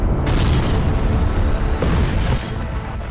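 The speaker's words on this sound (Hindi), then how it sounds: "इजरायल ने भीषण हमला कर हिजबुल्लाह की टनल और बंकर को तहस नहस कर दिया।" A loud, sustained rumbling roar from an Israeli strike blasting Hezbollah tunnels and bunkers, dense low-end boom filling the whole stretch without pause.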